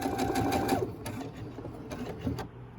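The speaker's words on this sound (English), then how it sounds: "we are going to just go ahead and sew down here to seal in your sides" Sewing machine stitching down the sides of a homemade fabric face mask, a steady rapid mechanical whir of needle strokes, close and clear with brief pauses between runs.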